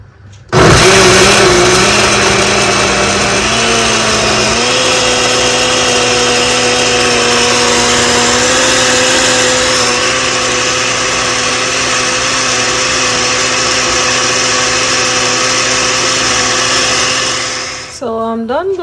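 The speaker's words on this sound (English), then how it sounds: "So let me go ahead and blend." A kitchen blender runs loud and steady for about seventeen seconds, whirring through a stuffed bell pepper sauce. The motor climbs in pitch early on, then holds, and it cuts off abruptly near the end.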